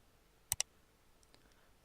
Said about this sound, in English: And now I will click on New Layer.